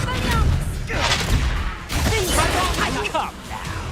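Confringo blasting spell in Hogwarts Legacy, a series of loud explosive bursts and crashing impacts in rapid succession, mixed with combat clamor and voices.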